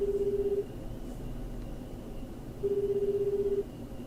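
A telephone number is dialed in the video game 428 Shibuya Scramble, two bursts of rapid, evenly spaced keypad tones separated by a pause over a low background hum.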